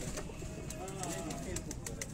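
Ustad Muhammad Tahir Bhatti's pigeons coo on a rooftop in Kasur, low murmuring calls blending into a dense, noisy background with faint higher ticks, no voices present.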